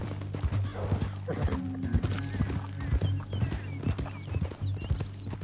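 Horse hooves clip-clop steadily at a walk in the Red Dead Redemption 2 video game, with a whinny rising over the hoofbeats, moderately loud and continuous with a low droning backdrop.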